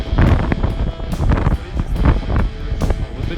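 Hurricane-force wind buffeting a frame house construction site in Crimea, strong gusts roaring and thumping against the microphone in uneven surges close and loud.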